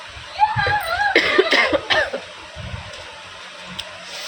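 A series of several close, sharp coughs in quick succession, followed by quieter background noise and a faint voice.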